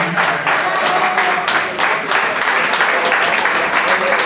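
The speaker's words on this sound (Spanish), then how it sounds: "Bueno, un aplauso para Carmen, que se vaya, que nos deja," An indoor audience at a live talk event bursts into loud, sustained applause, dense clapping that fills the room steadily with a few voices mixed in.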